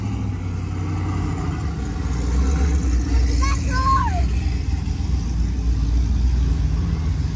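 A Chevrolet SS engine at a car gathering with lowriders in Oak Cliff gives a low, continuous idling rumble, close and steady, while voices murmur nearby.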